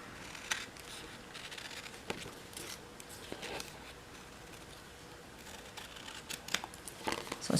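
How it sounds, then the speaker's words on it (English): Excess designer paper is trimmed off a papercraft envelope, with soft scattered snips, rustles and paper crinkles at close range, fairly quiet throughout. "Just trim that excess off."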